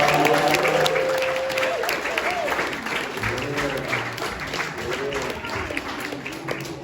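An audience at a community gathering in a friendship house gives itself a round of applause, dense sustained clapping with cheers and voices mixed in, loud and steady throughout.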